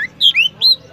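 Magpie robin giving a short run of loud, clear chirps and squawky whistled notes close by, three distinct calls within a second over faint background noise.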